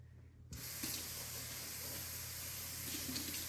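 Water runs steadily from a tap while hair is rinsed, a continuous close hiss that starts abruptly and carries on alone without pause.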